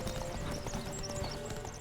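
Galloping hooves clip-clop rapidly through a horse race in The Witcher 3, with a brief neigh and steady game music or ambience underneath; no voices.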